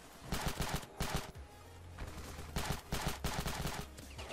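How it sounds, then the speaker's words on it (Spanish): Rapid bursts of gunfire in the video game Ravenfield's desert battle, loud clustered shots and automatic volleys repeating in uneven groups, with a low engine rumble underneath. "Me están disparando, me están disparando."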